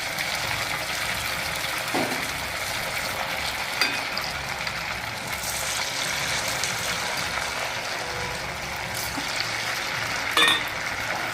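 Sabudana vadas deep-fry in hot oil with a continuous, dense bubbling hiss at a steady level, broken by a couple of faint utensil knocks near the start and end.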